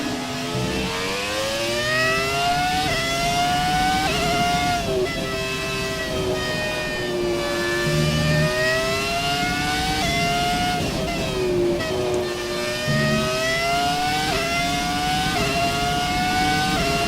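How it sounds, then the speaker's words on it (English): A Formula 1 V10 engine in a Codemasters F1 2017 racing game with classic cars, a loud high-pitched wail rising and falling through gear changes, continuous and close with no talk. "I'm enjoying the sound of this V10 engine too much."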